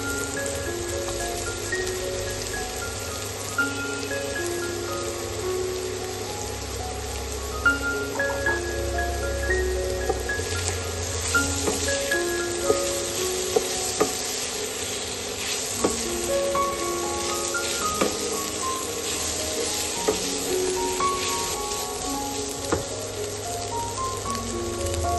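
Boiled chicken stuffing for sandwiches fries in a pan with a steady, rain-like sizzle, broken by occasional stirring scrapes and light clinks, close and with no talk, over a faint background hum.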